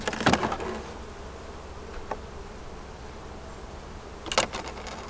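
Honey bees drone at an open ten-frame hive split, a steady close buzz with louder passes as individual bees zip near, plus a few faint wooden knocks from the hive box, no talk.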